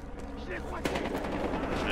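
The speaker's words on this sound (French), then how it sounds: "Tu tires balle par balle, c'est mince." Gunfire in the video game Battlefield Hardline rings out as one shot at a time, one sharp crack standing out over a dense, loud game soundscape.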